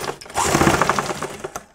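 A sewing machine stitches a large seam on cloth in one short, steady burst of rapid mechanical chatter, close and moderately loud.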